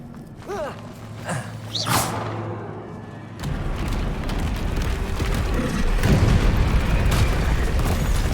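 A Bombarda spell explosion in Hogwarts Legacy: after a few seconds of quieter game sounds, a sudden loud blast opens into a sustained rumbling roar that keeps swelling to the end, with no talk.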